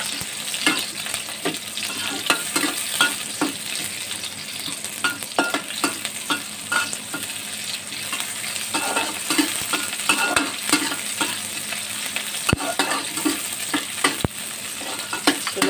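Onion fries and sizzles in a pan while being stirred, giving a continuous close hiss with frequent scraping and clicking stir strokes throughout, no voices.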